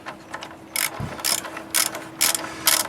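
Ratchet clicks in five quick bursts as an 18 mm engine mount bolt is loosened on a 2011 Nissan Altima 2.5 SL, close and fairly loud, with a low knock from the wrench in the middle.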